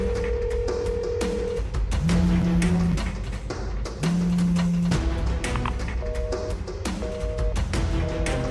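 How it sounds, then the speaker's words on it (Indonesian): Telephone call being dialed and rejected: a series of steady electronic phone tones repeating in short beeps under a dense, busy background of music or drama sound. "Kenapa Sekar malah reject telepon aku?"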